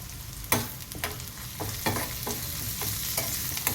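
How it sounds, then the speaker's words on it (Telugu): Onion pieces fry in a pan with a soft sizzle, broken by several sharp scraping stirs and clinks of a utensil against the metal, close up with no talking. "ఉల్లిపాయ ముక్కలు కొద్దిగా ఫ్రై అయిన తర్వాత ఇందులో పసుపు వేసుకోవాలి."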